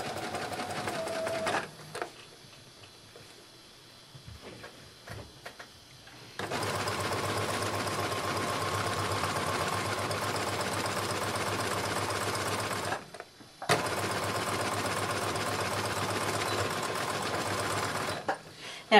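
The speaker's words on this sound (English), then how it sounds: "Now I'm going to zigzag stitch all the way down." A sewing machine zigzag stitching down the underarm seam of a swim dress, a steady close mechanical whir running in two long bursts with a brief pause between, after some quiet handling.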